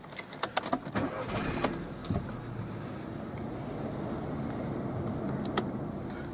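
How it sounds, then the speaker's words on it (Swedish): A 2012 VW Polo 1.4 TSI with automatic transmission starts up: several clicks and key rattles, then the engine catches and settles into a steady, quiet idle heard from inside the car. "Jag tror jag ska sätta på motorn igen."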